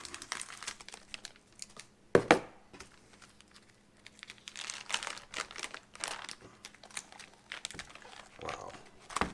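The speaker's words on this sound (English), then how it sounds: "no fancy knives here, just the good old scissors." Plastic packaging around a gooey butter cake crinkles in faint, scattered bursts while being cut open with scissors, with one louder crackle early and some quiet background noise.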